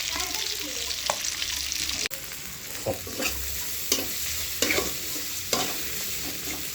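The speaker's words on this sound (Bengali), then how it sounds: "তো ডিম বোনা করার জন্য এখানে আমি পেঁয়াজ ভেজে নিতেছি" Onions fry and are stirred in a pan for an egg dish, a steady loud sizzle broken by repeated scraping strokes of the spatula.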